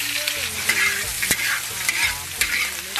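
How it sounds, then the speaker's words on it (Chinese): Chinese sausage stir-frying in a wok makes a steady loud sizzle, with sharp scrapes and clacks of the spatula breaking through at intervals. "另起锅现炒腊肠，"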